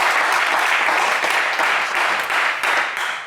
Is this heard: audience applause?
yes